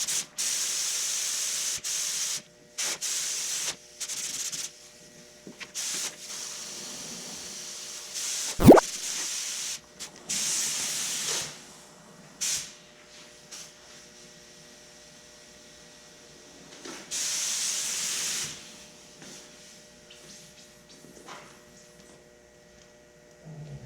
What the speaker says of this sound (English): I'm going to get my gun dialed in, and then we're going to spray these damaged areas.